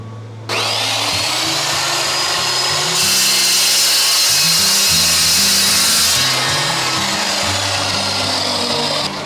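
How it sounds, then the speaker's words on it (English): A Steel Max carbide toothed saw cuts steel clamped in place in a makerspace, a loud, steady grinding whine starting abruptly and running continuously at close range with shifting pitch as the blade bites. "This is a steel max saw. It's not an abrasive stone. It is actually a toothed saw blade, carbide, and it does an excellent job of cutting steel very smoothly."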